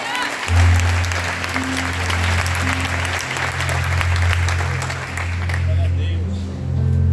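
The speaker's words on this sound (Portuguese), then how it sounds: "aplauda Ele mais alto que você puder" Church congregation applauding loudly in praise of God, a broad wash of clapping over a low, steady musical drone, with voices mixed in before it thins out near the end.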